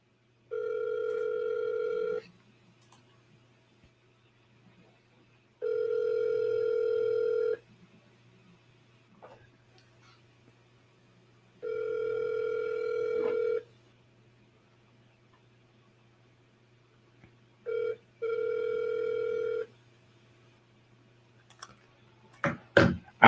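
A telephone line tone sounds during repeated sales calls, coming in steady two-second bursts with silent gaps, four times in all, before a few sharp clicks at the end.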